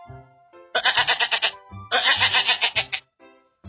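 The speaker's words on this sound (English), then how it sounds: "G-O-A-T. Goat. Goat." Goat bleating twice in loud, rapid quavering bursts, each a string of pulsed wavering cries, close and clear with short pauses between, no talk.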